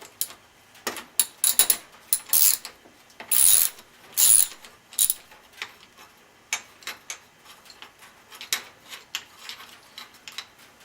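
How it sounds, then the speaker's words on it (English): A 13 millimeter ratchet spinning off motorcycle bolts, close rapid clicking bursts of the pawl with a few longer steady ratchet runs in the middle, clear and alone. "I'm going to take a ratchet, and this is a 13 millimeter, and I'm just going to go ahead and remove the bolts."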